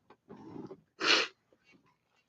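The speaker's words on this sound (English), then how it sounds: "I just sneezed all over my microphone." A single loud sneeze into a close microphone on a sports talk show, a sharp burst of breath standing out briefly after a short stretch of breathy, muffled vocal noise.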